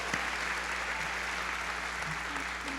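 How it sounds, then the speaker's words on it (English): Sustained applause from an audience at a community awards ceremony, a steady dense wash of many hands clapping at even loudness throughout, with no talking over it. "So we really all owe her a round of applause for bringing the schools around"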